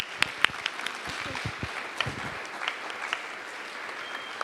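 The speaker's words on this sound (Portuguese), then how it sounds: "Vamos aplaudir o Senhor?" Church congregation at a missionary worship service gives sparse, moderately loud applause, a few distinct claps standing out over a light patter.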